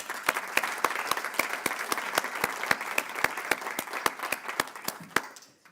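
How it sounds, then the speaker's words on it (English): Audience applause at a stakeholder report launch, with sharp individual claps ringing out steadily over a softer crowd wash for several seconds before fading out. "Another big round of applause."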